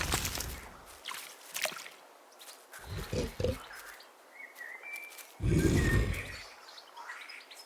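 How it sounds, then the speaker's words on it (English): A pig from the video game The Last Campfire gives several short snorting grunts in bursts, close and fairly loud, mixed with chirpy game sound effects and music. "The pig inhaled a giant snort of air."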